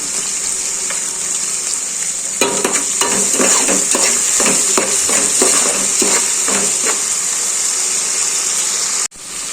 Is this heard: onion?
yes